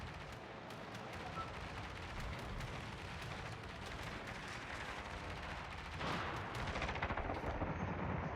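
Richelieu battleship guns fire in a naval video game, a dense crackling barrage of rapid shots and rumbling blasts, steady and fairly faint, growing slightly heavier near the end.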